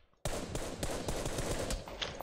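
Rapid bursts of automatic gunfire in PUBG on the Miramar desert map, loud and dense, starting abruptly after a brief quiet moment and continuing with sharp repeated cracks throughout.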